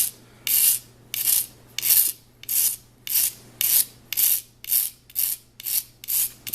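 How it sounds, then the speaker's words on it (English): A razor blade scrapes old varnish off a vintage fishing rod in rhythmic strokes, about eleven evenly spaced loud rasping passes close up, with a low steady hum underneath and no voices. "I'll just use a regular razor blade in a similar manner, and I will just scrape"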